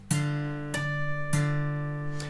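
Three plucked electric guitar bass notes ring out one after another, each sustaining with bright bell-like harmonic overtones on top, clear and close.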